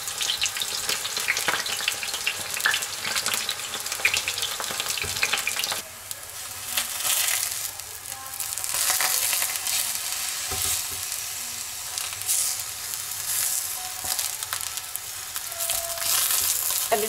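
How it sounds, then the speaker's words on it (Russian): Homemade oil sizzles and spatters steadily in a frying pan, with a continuous close crackle that thickens into a denser hiss partway through, and no voices. "Масло уже начинает шипеть и брызгать."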